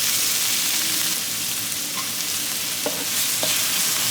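Chopped onions, green chilies and crushed garlic fry in a pan with a loud, constant hiss and a few faint taps of a utensil.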